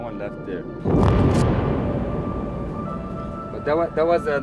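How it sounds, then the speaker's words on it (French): Artillery fire in southern Lebanon: a loud broad boom rolls in near one second and decays slowly into a low rumble, with a voice speaking faintly before it and again near the end. "Ça, c'était de l'artillerie."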